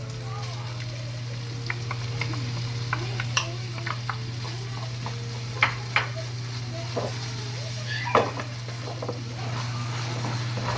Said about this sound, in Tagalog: Once the garlic is brown, put in the tomato. And the ground beef.